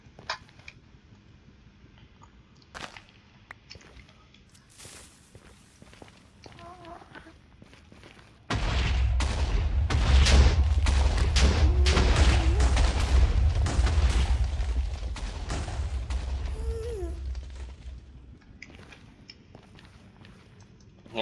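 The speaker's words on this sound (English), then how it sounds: "So hopefully this one is a pretty big explosion." A big explosion in a game, a sudden heavy boom that cuts in after a stretch of quiet footsteps and clicks, then a long, loud rumbling roar that slowly fades over several seconds.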